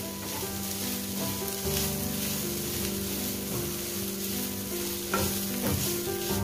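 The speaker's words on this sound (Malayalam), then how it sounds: "തേങ്ങ ഇട്ടിട്ട് നമ്മൾ നന്നായി ഫ്രൈ ചെയ്ത് കൊടുക്കുക" A coconut mixture for Kerala-style chicken thoran sizzles in a pan and is stirred with occasional scraping strokes, under steady tonal background music.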